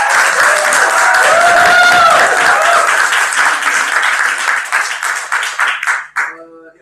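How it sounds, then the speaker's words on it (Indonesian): Audience applause at a talk event in Edinburgh, a loud, dense burst of many hands clapping that thins out and fades near the end, with a voice briefly under it. "Beri tepuk tangan lagi."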